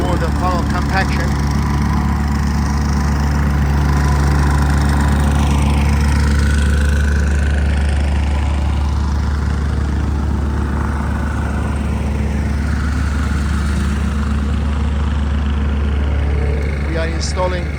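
A compactor machine tamps a gravel driveway base laid over 6 inches of oversized drainage gravel, its engine droning steadily and loudly throughout with a constant low rumble and no breaks.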